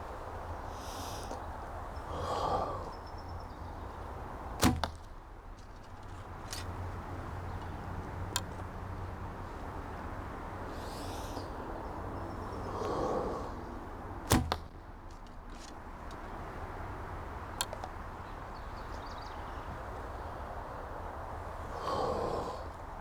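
Arrows shot from a bow strike a target in three sharp, loud impacts spaced several seconds apart, with soft breathing between shots during gap-shooting archery practice.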